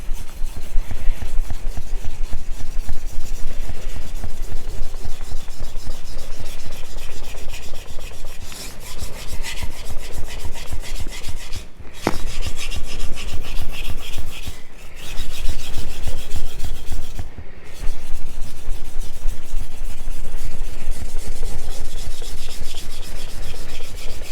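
A knife is drawn again and again across a splash-and-go whetstone, giving a steady, close abrasive scraping with a few brief pauses and no talk.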